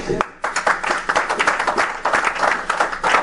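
A church congregation applauding steadily in a dense wash of clapping, loud and sustained for a few seconds after a brief pause.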